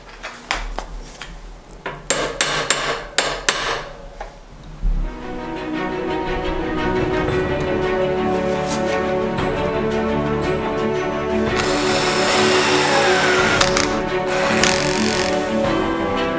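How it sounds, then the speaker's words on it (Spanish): Metal hand tools at work fitting a hinge onto a window: sharp rhythmic clinks of a center punch struck a few times, then a steady whirring drone of screwing that runs on, loud and close, with no talk. "ahora vamos a atornillar la bisagra y para que los tornillos queden en una posición, la posición perfecta que tienen que llevar, nos vamos a ayudar de un punto"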